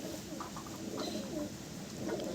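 Soft, low cooing of Madrasi pigeons repeats several times over a steady background hum, fairly close and continuous.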